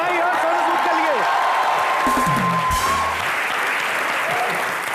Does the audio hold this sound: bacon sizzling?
no